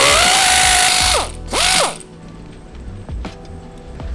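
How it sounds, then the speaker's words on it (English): Ratchet clicking as top strut bolts are loosened on a 2016-2022 BMW 740i, two loud rapid bursts of pawl clicks, near, then quieter scattered mechanical ticks. "Next, remove the top strut bolts."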